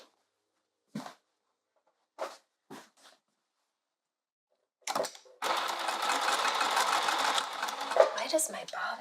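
Sewing machine stitching a striped canvas tote, with the bobbin making an odd sound; a few short stitch bursts with pauses between them, then a steady, loud, close run of stitching near the end.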